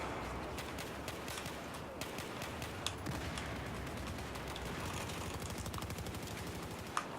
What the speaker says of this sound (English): G18 does not like being used on semi-auto.